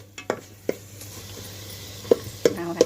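Crab curry paste fries in a pot over a wood fire, with a soft sizzle beneath sharp scattered clinks and scrapes of a ladle against the pot, heard up close.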